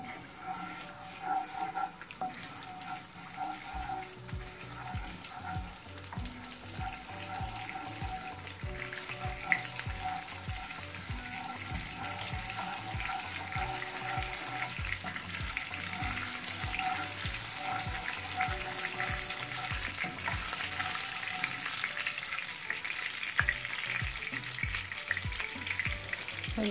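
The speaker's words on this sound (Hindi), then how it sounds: "ये बिल्कुल थोड़ा सा मैंने ऑयल डाला है, और उसके अंदर मैं डाल देती हूँ ज़ीरा 1 टीस्पून, इसको थोड़ा सा भून के" A teaspoon of cumin seeds roasts in a little hot oil for tempering, a steady crackling sizzle with a faint pulsing hum underneath, quiet and unbroken, with no speech.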